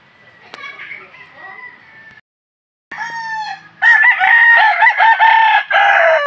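A tethered gamecock rooster clucks and calls loudly up close in repeated bursts, preceded by quieter rustling and a short gap of silence.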